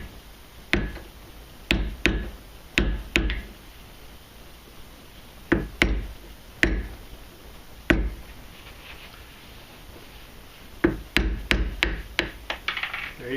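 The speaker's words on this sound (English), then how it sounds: "I'm going to knock this sight out of here." Sharp, close hammer blows knock a Glock 19 pistol sight out of its dovetail, coming in uneven clusters of two to four hard metallic strikes separated by short pauses.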